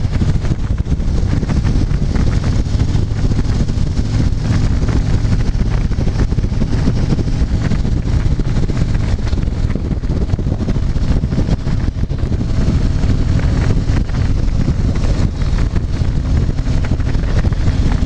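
Steady, loud wind roar buffeting the microphone while riding a Harley-Davidson Street Glide touring motorcycle with a fairing, with low engine rumble underneath, continuous for the whole stretch and no talking.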